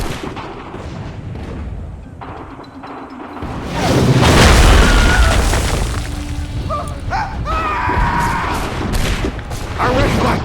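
Artillery fire in the video game Assassin's Creed III, heavy booms and rumbling blasts swelling midway and continuing under battle noise, with a voice speaking over it.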